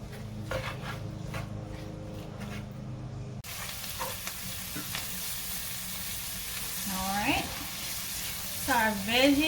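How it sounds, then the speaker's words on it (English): Chopped vegetables sautéing in a pan for shrimp and crab étouffée give a soft, steady sizzle with occasional stirring scrapes, while a voice speaks briefly near the end. "And these are gonna saute down for about 5 or 6 minutes until they get nice and tender."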